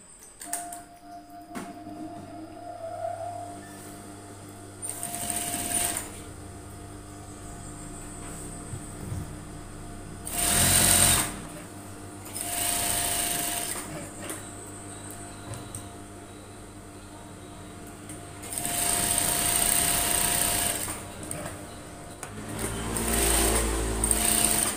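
An electric sewing machine stitching an overall runs in several bursts of rapid, whirring stitching separated by quieter pauses, close and fairly loud, with faint handling noises between runs.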